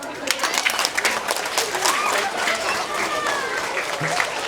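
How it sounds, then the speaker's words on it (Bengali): Schoolchildren clapping together beside a school, a lively uneven patter of many small hands, close and fairly loud throughout. "বেশ, হাততালি দে তাহলে"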